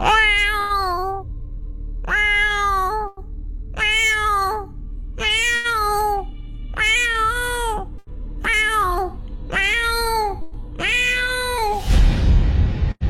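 A cat meows loudly and close by, about eight drawn-out, rising-and-falling cries in a steady sequence, ending with a burst of rustling noise.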